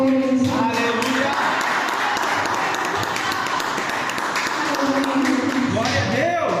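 A church congregation claps in a steady, dense patter that runs throughout, while a voice speaks or sings loudly over the applause.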